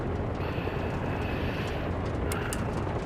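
Helicopter engine in the Arma Reforger video game, a steady, loud rumbling drone that holds constant throughout without talk.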